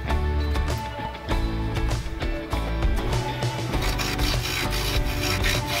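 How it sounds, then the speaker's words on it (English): Continuous rasping and rubbing of sanding and shaping a wooden measuring cup, with fast scraping strokes repeating throughout, close and fairly loud. "shaping, sanding, a little walnut oil to seal it in"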